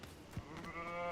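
A sheep bleats once in the video game Hogwarts Legacy, a short wavering call rising over a steady background bed, fairly close and clear with no talk over it.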